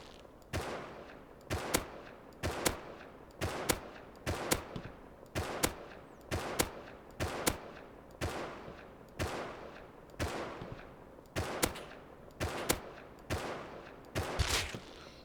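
Gunfire in the video game Rust: steady bursts of shots repeating every second or so, sharp and loud, with short gaps between volleys and a faint voice talking underneath.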